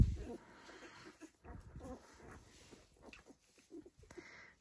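Ten-day-old Dalmatian puppies whimper and squeak softly up close in short, uneven bursts, with quiet rustling between the cries.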